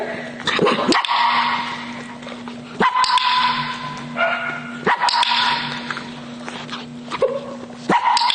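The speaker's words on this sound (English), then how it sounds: "So I can teach her to bark really quick here" A dog barks on cue during agility start-line training, giving several sharp, loud barks in bursts spaced a second or two apart, close to the listener with no talk over them.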